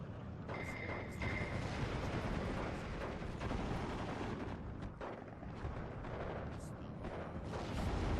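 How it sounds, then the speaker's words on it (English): Artillery fire in a Steel Division 2 battle booms and rumbles continuously, with repeated blasts and distant gunfire layered into a thick, heavy roar. "That artillery was spot on."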